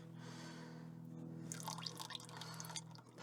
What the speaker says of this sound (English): got the first sign of oil coming out. And we've got bigger flowing out